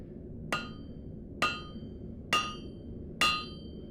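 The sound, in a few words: blacksmith hammer striking metal on anvil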